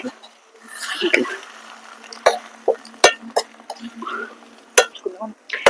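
Raw banana egg bhurji turned and fried in a pan, with scattered sharp utensil clacks and scraping over soft frying noise while someone talks.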